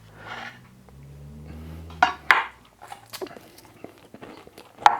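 Crispy fried orange chicken gives a few sharp crunching bites with light chewing, close and clear, after a low hum and a little clinking of dishes.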